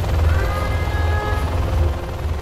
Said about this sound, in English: Gunship reporting in.